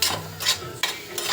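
Okra frying in oil in a pan with stirring, brief scraping bursts of sizzle and spoon-on-pan movement repeating in quick strokes, close and moderately loud.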